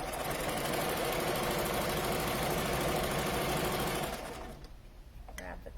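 Sewing machine running a straight stitch on a fabric face mask, a close, steady mechanical whir that holds for about four seconds before slowing and trailing off into quieter handling sounds.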